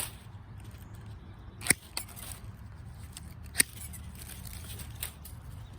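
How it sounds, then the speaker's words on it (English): Pruning shears snipping sago palm (Cycas revoluta) fronds close to the plant: a few sharp, isolated clicks and cuts spaced a second or two apart over a quiet outdoor background, with no talking. "I'm trimming as close to the plant as I can."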